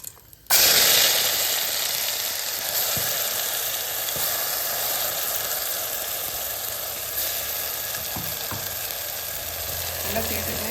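Cinnamon, cloves, cardamom, star anise and masala sizzle loudly in hot oil in a one-pot pan for karamani rice, with a steady crackling hiss after a sudden start and occasional stirring scrapes.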